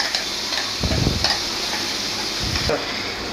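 Ground paste is stirred into spices such as garam masala frying in a pan for an Assamese fish curry with sesame, giving a soft background sizzle broken by a few louder scraping stirs of the spoon.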